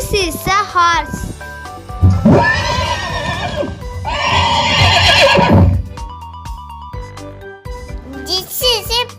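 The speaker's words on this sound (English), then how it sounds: "This is a horse." A horse whinnies in two loud, shrill, quavering neighs close by, with someone speaking briefly before and after over faint music.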